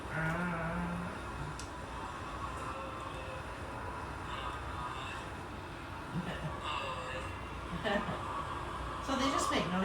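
Recorded baby giraffe calls sound as short bleating, lowing cries, several spread across the stretch, heard over a low background hum with people talking quietly now and then.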